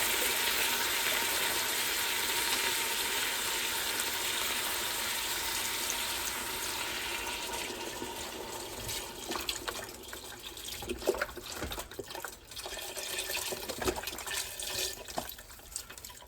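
Chicken broth pours steadily into a pot of tomatoes at first, then turns into uneven splashes and glugs as the pour tapers off, close and fairly quiet.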